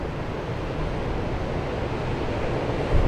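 Steady, roaring wind gusting across an open coast, with a broad rush like surf underneath; continuous and loud, no voices.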